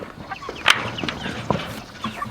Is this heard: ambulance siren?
no